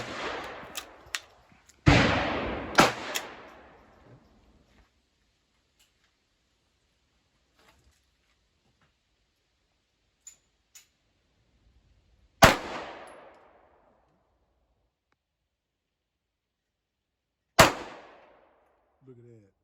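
A Hi Point 9mm pistol fires through a magazine outdoors, with a few loud, sharp shots spaced far apart and long silent gaps between them.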